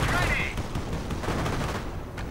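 Rifle fire from Rangers in a WWII strategy video game: a dense crackling fusillade of rapid overlapping shots, loud and steady throughout with a brief higher whine at the start.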